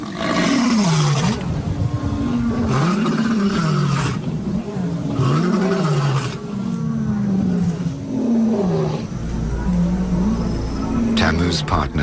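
Lions roar in the evening, a pair calling to announce their presence, with deep, repeated grunting roars in a rhythmic series, loud and close, and a steady background rumble beneath them throughout.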